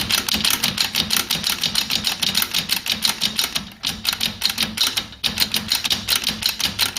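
The brake auto adjuster on a Ford Cortina Mk3 gives rapid, regular mechanical clicks as its thread is wound out. The sound is close and crisp, keeps a steady rhythm with two short pauses, and plays without talk.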